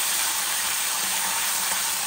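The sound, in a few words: potato dish frying in the pan without water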